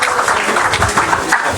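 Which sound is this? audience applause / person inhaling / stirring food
audience applause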